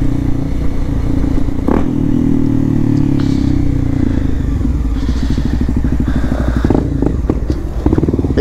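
A Honda XRE 300 motorcycle with an aftermarket exhaust rides at night, its engine droning steadily with revs rising and falling, plus clattering pops and thumps close by.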